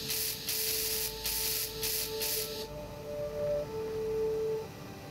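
Steel blocks being welded in a ship-building video game give a rough, broadband hissing buzz in several short bursts for the first half, then only quiet tonal hum remains.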